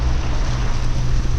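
A sailboat motors under engine in gusty wind off Australia's east coast, a steady low engine drone mixed with broad wind and wave rush.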